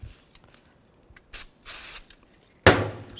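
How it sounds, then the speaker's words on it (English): Brake parts cleaner sprayed onto a rear brake caliper of a 2009-15 Toyota Prius, a few short aerosol hisses, the last one loudest, close up with quiet gaps between. "I'll just take a little brake parts cleaner."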